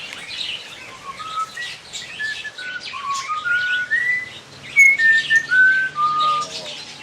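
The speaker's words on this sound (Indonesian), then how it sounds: "ini Beo saya, dia sukanya kalau ada orang assalamualaikum" A hill myna whistles a wandering series of clear, tuneful notes, rising and falling, close by and fairly loud with no talking.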